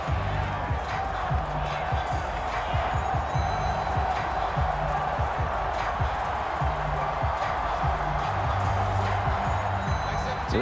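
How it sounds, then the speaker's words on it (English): A stadium crowd in a Madden NFL football game sends up a steady, dense roar that holds loud throughout, with rhythmic thumping beneath it and commentary running over the top. "This crowd turning up the decibel level."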